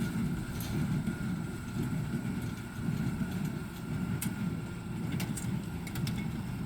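A John Deere 328 square hay baler making small bales in dry hay runs with a steady low mechanical rumble and faint intermittent clatter, even and continuous at moderate distance.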